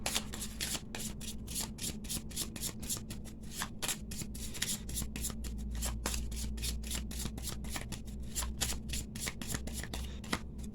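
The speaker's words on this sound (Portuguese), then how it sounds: "Então embaralhei aqui," A deck of Cigano fortune-telling cards is shuffled by hand, giving a steady run of quick riffling flicks and rustles close by, with no talking, the whole way through.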